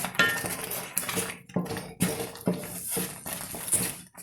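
Thick cassava halwa being stirred and scraped in a pan, with repeated close metallic scrapes and knocks of a utensil against the pan in an uneven rhythm, and no voices.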